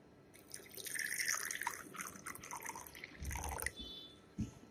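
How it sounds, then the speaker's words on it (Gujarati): Water splashes and trickles into a bowl nearby, a steady pouring patter with a few drips and a soft clink near the end. "એમાં પાણી રેડી દેવાનું છે"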